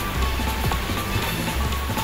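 Rain falls steadily, a dense continuous patter of drops on a surface, close and fairly loud throughout the short stretch with no pauses.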